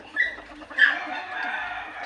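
Backyard chickens being fed give a couple of short, close clucks followed by a soft, sustained murmur of fowl calls, all within a brief moment.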